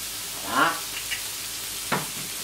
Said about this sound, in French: On va ajouter le vinaigre de Xérès.